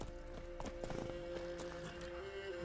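The horse Roach in The Witcher 3: Wild Hunt gallops with rapid rhythmic clip-clop hoofbeats, close and steady, over a low sustained musical drone and occasional tack jingles.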